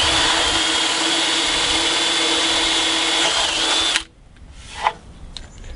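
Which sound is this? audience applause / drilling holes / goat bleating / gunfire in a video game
drilling holes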